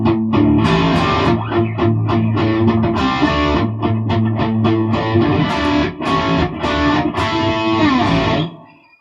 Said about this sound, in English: So there's a fairly simple rock rhythm.